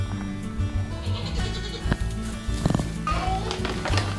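Goats bleating in a farm pen, several calls rising over a steady background hum, some close and loud, with a few short knocks between them.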